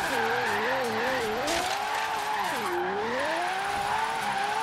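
A Lamborghini drifts sideways in Forza Horizon 3 in fourth gear, its engine droning and bending in pitch while the tires skid and squeal steadily throughout, loud and close with no pauses.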